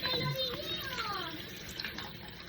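Running water gushes and splashes over piles of freshly tumbled rocks as they are washed, a steady close spray with a faint voice in the background.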